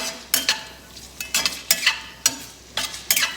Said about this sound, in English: And let me just give it a little stir.